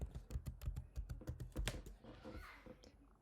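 Rapid keystrokes on a computer keyboard as a username and password are entered, a close, uneven run of clicks that slows and trails off toward the end, with no talking.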